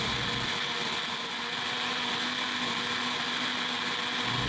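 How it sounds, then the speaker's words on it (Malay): A blender whirs continuously, grinding pandan leaves with plain water into a pulp, a loud, steady close-up motor drone with no pauses. "Kisarkan sekejap bagi daun-daun pandan tu betul-betul hancur dan lumat sepenuhnya."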